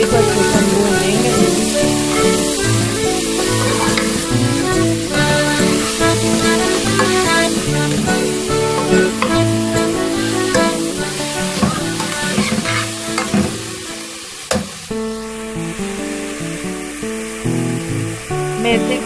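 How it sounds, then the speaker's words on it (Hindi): Fenugreek leaves fry in a pan with a continuous close sizzle and repeated stirring scrapes, set against steady background music. "मेथी को हम अब तकरीबन 2 से 3 मिनट अच्छे से भूनेंगे"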